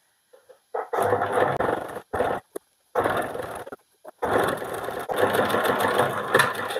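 A sewing machine runs in loud bursts while stitching a blouse, stopping and restarting several times with short pauses between runs and no talk over it.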